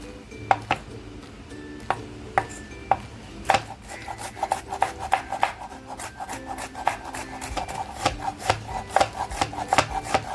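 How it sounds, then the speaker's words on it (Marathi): A knife finely chops garlic and green chilli on a board. A few spaced strikes build into fast, steady, close-up chopping taps. "लसूण आणि मिरची आहे ना बारीक पेचून घेते"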